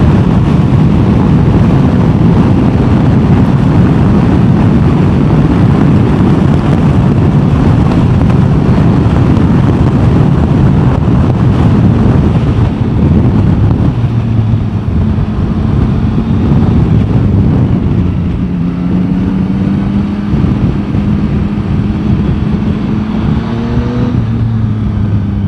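A Yamaha Tracer 9GT motorcycle is ridden at a steady pace, its engine droning loud and constant under heavy wind rush, with rising gear-shift tones audible toward the end.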